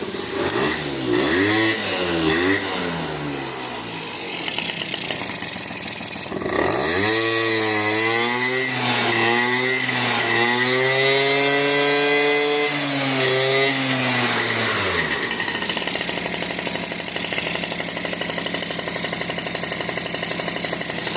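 A small two-stroke scooter engine with a carburetor and no air filter box sputters, then catches and revs up and down with a buzzy whine before settling into a steady, loud idle nearby.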